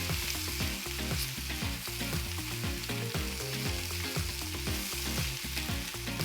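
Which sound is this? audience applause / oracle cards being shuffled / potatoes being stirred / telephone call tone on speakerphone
potatoes being stirred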